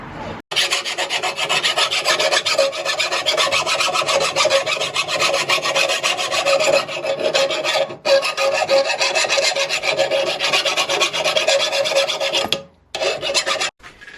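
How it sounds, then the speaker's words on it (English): Steady, loud rasping strokes of a hand file sharpening the edge of an old lawn mower blade being upcycled, continuing almost without pause and broken only by a couple of brief gaps. "Sharpening up that edge, beautiful."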